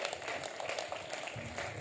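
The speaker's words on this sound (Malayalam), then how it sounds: "അവക്കൊരു കൈയടി കൊടുത്തേ" An audience claps for a girl who gave an answer at a faith talk, producing a soft, steady patter of many hands that runs fairly evenly and low in level throughout.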